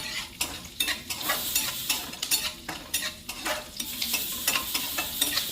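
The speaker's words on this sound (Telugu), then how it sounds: "చూడు జీడిపప్పు మంచి కలర్లో దోరగా వేగింది." Cashews frying in hot oil with curry leaves, a steady sizzle broken by repeated scraping and stirring clatter of a spoon against the pan, close and lively, no talking.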